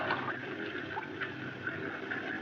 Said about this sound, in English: That's a pump, Bart.